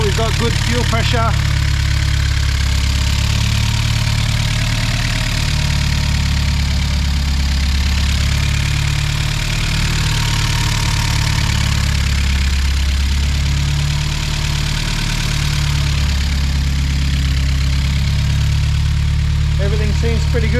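Turbocharged engine with a Garrett ball bearing turbo idling at about 1,000 rpm, a steady, deep rumble with an even, unchanging drone close by for the whole stretch.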